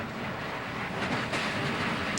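Damaged NASCAR stock car at Daytona dragging loose body parts along the track, a dense, steady rumbling scrape with clattering, no voices.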